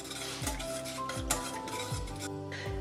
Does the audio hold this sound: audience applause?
no